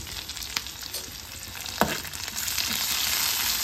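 Tomato pieces, cut long, frying in a pan over already-cooked onions: a steady close sizzle with a sharp clatter midway and faint stirring scrapes, no voices.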